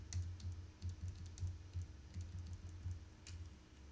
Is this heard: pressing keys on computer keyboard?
yes